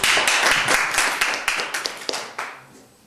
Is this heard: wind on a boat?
no